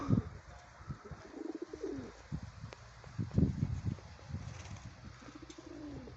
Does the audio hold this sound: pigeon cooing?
yes